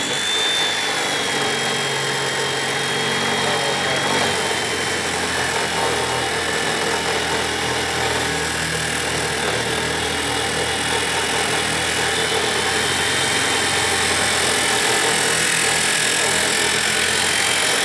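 A power tool grinds steadily to clean up a small weld with a lump at its bottom, on a budget hauler bus build in a workshop. The dense, continuous whine runs loud and unbroken throughout, with no talk.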